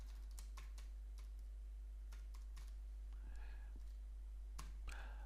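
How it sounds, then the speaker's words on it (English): Someone types on a computer keyboard into an article text box, a faint, irregular patter of key clicks heard up close over a steady low hum. "click inside the article text box and start typing"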